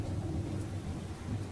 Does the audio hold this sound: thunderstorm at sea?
yes